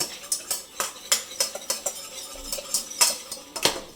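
A whisk beating onion powder into a mixture in a bowl for smashed potatoes, fast rhythmic metallic clinks and scrapes against the bowl, close and steady, with no talking.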